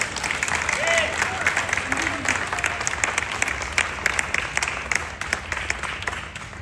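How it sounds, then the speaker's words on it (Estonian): An audience at a book-year opening event in a museum gives steady, continuous applause for several seconds, a dense crowd clapping at moderate volume. "Aplaus peaks olema veel tugevam."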